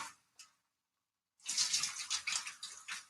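Potatoes poured into hot oil in a pan for home fries, a faint brief splash, a pause, then a bright crackling sizzle that rises and keeps bubbling.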